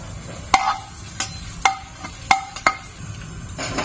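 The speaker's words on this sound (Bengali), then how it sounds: "এই শুকনো লঙ্কাগুলো শুধু কয়েকটা শুকনো লঙ্কা আমি এরকম তেলে ভাজবো, কালো কালো করে" Dry red chillies frying in oil, a low background sizzle broken by sharp metallic clinks and scrapes of a spoon against the pan at irregular intervals, close by.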